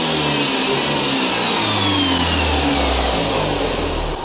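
A 2005 Jeep TJ with the 2.4-liter engine revs loud and close, its engine note climbing and falling through several throttle blips with a rattling edge running steadily underneath, no voices present.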